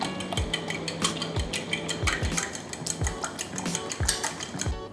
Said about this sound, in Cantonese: 將雞蛋打勻